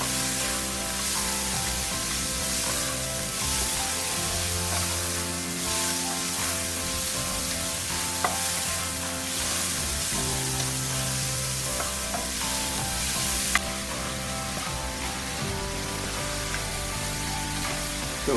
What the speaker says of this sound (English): So all these veggies are getting tossed and stirred in here